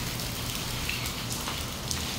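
Rain falls on a surface in a steady, dense patter with scattered louder drops, close and continuous, with no talk.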